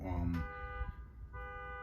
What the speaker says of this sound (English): a car alarm would be going off in the middle of my reading